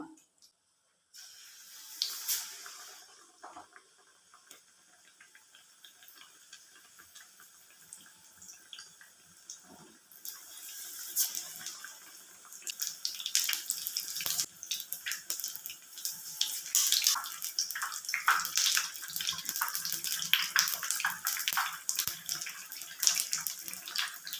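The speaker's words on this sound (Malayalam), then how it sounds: "നമ്മുടെ പഴംപൊരി ഫ്രൈ ആയി വന്നിട്ടുണ്ട്." Pazhampori banana fritters fry in hot oil with a dense, crackling sizzle that starts faint and builds louder, with sharp spattering pops throughout.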